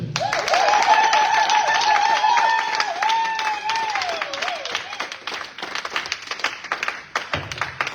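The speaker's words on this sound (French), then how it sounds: "Est-ce que nous pouvons encore exagérer en acclamant le Seigneur?" A church congregation applauds and cheers, with a sustained high wavering vocal cry riding over dense clapping early on, then continuous rapid, slightly uneven clapping that carries on to the end.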